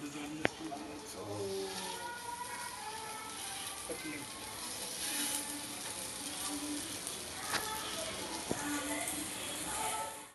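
Cutlets frying crisp in oil on a hot tawa: a steady close sizzle runs throughout, with a couple of sharp clicks and soft scraping stirs, while a voice talks faintly in the background.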